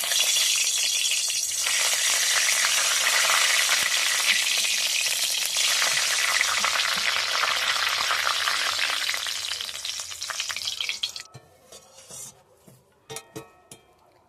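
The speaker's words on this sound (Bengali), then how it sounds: "কিছুটা কারি পাতা নিয়েছি, ভেজে নেব।" Curry leaves hit hot oil in a loud, dense crackling sizzle that holds strong for about ten seconds, then fades out, leaving a few sharp knocks and clatters.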